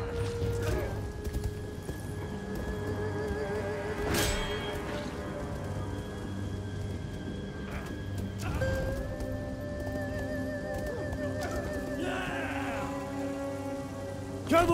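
A volley of arrows and missiles raining down in a Total War: Three Kingdoms battle: a dense, rain-like patter of impacts amid horses neighing and hooves clattering, with a sharp crack partway through.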